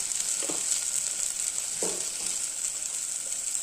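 Kashmiri chilli and coriander powder fry in a pan with a soft, steady sizzle. A couple of faint clinks or stirs sound over it, and nobody speaks.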